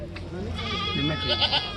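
A goat bleats at a livestock market in Faridkot, a wavering cry heard over a steady crowd murmur and nearby talk.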